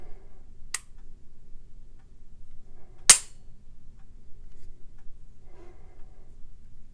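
A CZ P10-F striker-fired pistol dry-fired, giving two sharp, isolated trigger clicks a few seconds apart, close and crisp against near silence.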